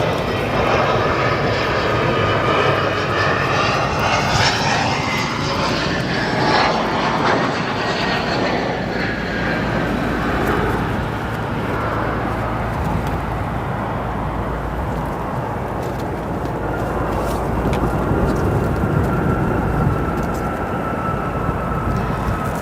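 An American Envoy Embraer 175 jet lands at O'Hare, its engine roar loud and continuous from the start, with a rising whine and the rumble easing gradually as the plane rolls out on the runway.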